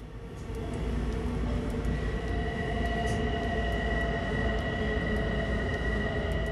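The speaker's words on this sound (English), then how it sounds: "our train begins to slow, as is made apparent by the whirr of the traction motors" Steady electric whir of Long Island Rail Road commuter train traction motors as the train slows, rising tonal whines over a deep rumble, continuous and close, no voices.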